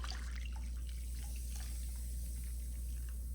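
Hot water poured from a pot into a dish of baking powder, a steady close liquid rush and splash running the whole time with no talking.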